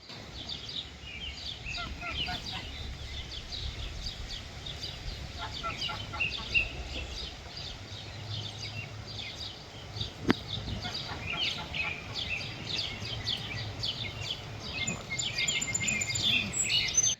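Small birds chirp and tweet steadily in the background outdoors, a continuous scatter of calls under a low ambient rumble, with a brief thump midway.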